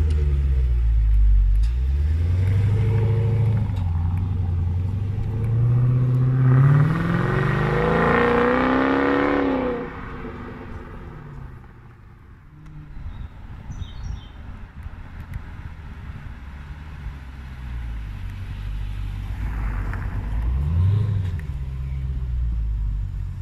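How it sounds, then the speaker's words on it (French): A Dodge Challenger R/T Widebody's 500-horsepower engine idles with a low, steady hum, rising into a revving whine once before settling back, then briefly revving again later. "Alors ça c'est le son moteur au ralenti."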